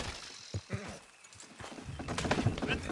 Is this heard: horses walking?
yes